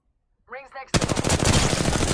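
Rapid automatic gunfire in a video game: a dense, loud burst of repeated shots that starts abruptly after a brief voice and keeps going.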